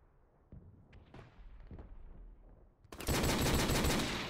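Desert Eagle pistol shots ring out in a competitive shooter video game, a few sharp separate cracks at first, then a loud, dense burst of gunfire near the end.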